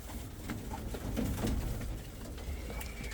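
Pigeons in a cluttered loft give soft low coos and rustling over a steady indoor hum, close and continuous with no talking.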